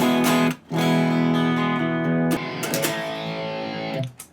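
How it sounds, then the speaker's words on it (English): A new electric guitar plays clean-toned chords through a Quad Cortex with delay and reverb, sustained ringing notes that change a few times and trail off into echoing decay, loud and alone. "gotta have some delays and some reverbs on the clean tones"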